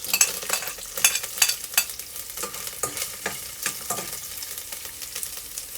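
Garlic, onion and ginger sautéed in a pan, steady sizzling under frequent sharp scraping and clanking strokes of a spoon stirring, close and moderately loud, no talking.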